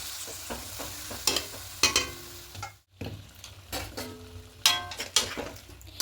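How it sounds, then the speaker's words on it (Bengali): Chicken sautés with potatoes and onions in an uncovered pan, a steady sizzle broken by repeated scraping stirs and sharp spatula clinks, with one brief lull in the middle. "মিনিট দশেক আমি চিকেনটাকে আলুর সঙ্গে আর পেঁয়াজের সঙ্গে খুব ভালো করে কষিয়ে নেব"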